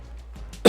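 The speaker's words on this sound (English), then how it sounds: "just coughing up a storm" A single sharp cough at close range bursts out after a moment of faint background murmur, brief and loud.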